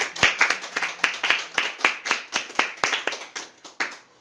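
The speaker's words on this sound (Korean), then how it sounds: "그 하나님께 우리 다 같이 영광의 박수 올리도록 하겠습니다." A church congregation claps together in praise to God, crisp, evenly spaced claps at roughly two to three per second, fairly loud and close, with no talking over them.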